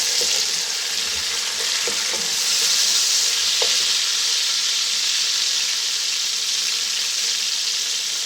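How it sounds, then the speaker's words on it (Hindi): Chopped tomatoes frying with garlic in a pot of hot oil for chana dal pulao, giving a loud, dense, continuous sizzle and hiss close by, with a few faint clinks early on. "अब इसमें हम 2 टमाटर कटे हुए ये डाल देंगे"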